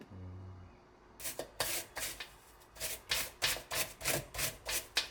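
A pear grated by hand for Korean water kimchi (nabak kimchi), heard as a steady rhythmic series of close rasping strokes, roughly two per second, after a brief quiet start.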